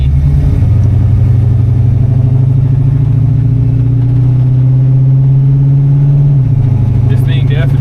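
A 1951 Chevrolet 3100 pickup with a 350 Turbo transmission drives along with a loud, steady, rumbling engine drone heard from inside the cab, and the pitch drops near the end as it shifts gear smoothly.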